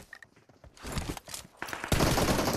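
Gunfire in a first-person shooter game: rapid bursts of automatic shots, sparse at first, then dense and continuous, loud and close.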